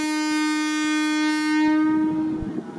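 A loud, sustained train horn blares steadily for a couple of seconds, then rumbling and clattering rises beneath it as passenger train 356 with air-conditioned cars passes, arriving at Bang Sue station.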